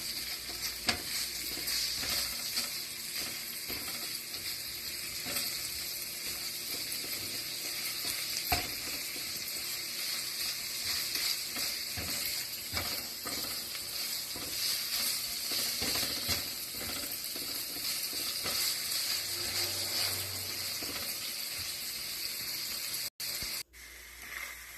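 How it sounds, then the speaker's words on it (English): Ground beef fries in rendered bacon fat in a pan, giving off a steady, loud, close sizzle with faint scraping from stirring throughout, and no voices. "I'm just using the same fat or oil that comes from the bacon to make the flavor comes"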